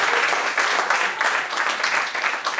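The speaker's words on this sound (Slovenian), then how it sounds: "dajmo aplavz!" A comedy roast battle audience breaks into dense, steady applause, a loud sustained wash of many hands clapping at once that carries through the whole moment.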